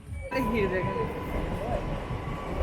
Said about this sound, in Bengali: তো গাইস ট্রেন যাচ্ছে দেখতে পাচ্ছ তোমরা